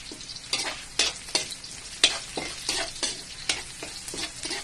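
Onion and garlic fry in oil for Filipino pansit, a quiet sizzle broken by regular scraping strokes of a spatula stirring in the pan, with no voices.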